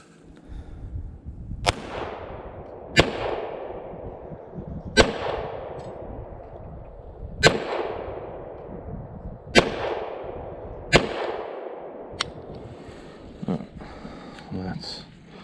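A Kel Tec CP33 .22LR pistol fires Federal ammunition outdoors in seven sharp, ringing shots spaced a second or two apart, each with a decaying echo, and a voice talks between them.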